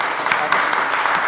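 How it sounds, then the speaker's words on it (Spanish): Steady applause for presenters at a talk on submitting reports to the JEP and CEV, a dense, loud, continuous wash of clapping with a few sharper individual claps standing out. "que suene fuerte ese aplauso para los compañeros"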